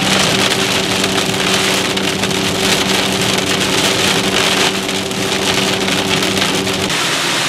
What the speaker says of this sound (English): some hail heavy winds and rain